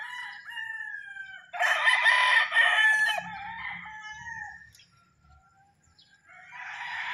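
Gamefowl roosters at a game farm crow loudly in a drawn-out call, then a second crow starts near the end, with low clucking and rustling between them.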